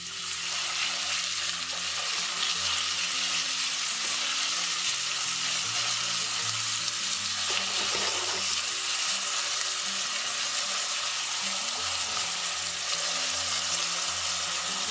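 Vegetables sizzling in a pot as the base for a vegetable soup, a loud, steady crackling fry that runs continuously with a brief stir partway through, close up and without talk.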